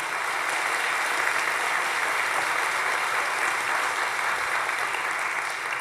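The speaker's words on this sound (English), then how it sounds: "Let's give them one round of applause, one of many." Sustained, dense applause from a large crowd at a master's graduation ceremony, steady and loud throughout with no pauses.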